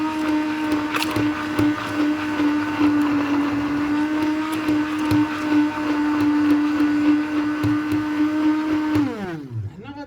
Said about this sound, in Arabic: خليني نميكسي الخل والملح.